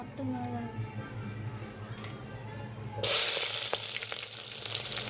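Onions tipped into a hot pan over a wood-fired stove burst into a loud, bright sizzle partway through, after a stretch of voices and quieter cooking noise.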